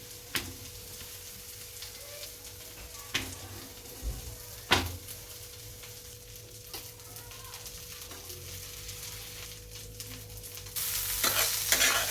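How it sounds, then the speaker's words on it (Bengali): Diced eggplant fries in a pan while being stirred, with a soft continuous sizzle, occasional clinks of a spatula against the metal, and a louder burst of frying near the end. "রুটিটা নামিয়ে আমি বেগুনটাকে একটু নাড়াচাড়া করে"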